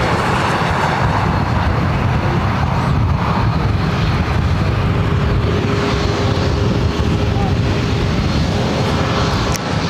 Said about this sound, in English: Korean Air, the A380 Super, now rotating there on the south side